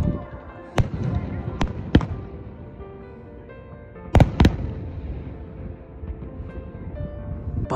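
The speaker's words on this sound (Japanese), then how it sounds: "NSR と一緒に花火を見れておりますよ。" Fireworks bursting at Fuji Speedway during a motorcycle event, with several sharp booming explosions in quick pairs over a steady hum of crowd and background noise, some bursts near and loud.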